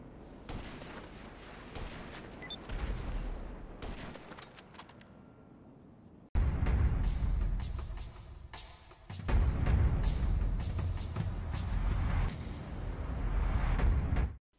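Sniper rifle fire in the video game GTA V, heard as loud, blasting gunfire with heavy low-end booms that fill most of the clip in dense bursts, without any talk.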